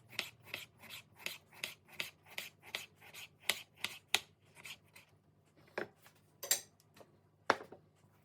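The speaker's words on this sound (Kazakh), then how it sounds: "Осылай видеодағыдай жалпақтау етіп турап аламыз" A knife slices a tomato into wide, flat pieces for a salad, making a steady run of about a dozen crisp, evenly spaced cuts, then a few sparser strokes, quiet and close with no voices.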